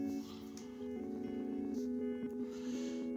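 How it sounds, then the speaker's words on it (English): Guitar through a double reverse stereo delay pedal, split left and right with different delay times, giving sustained harmonic tones with swelling, glitchy repeats that play continuously and fairly quietly, with no talking. "this setting I have is double reverse, split left, right with different delay times."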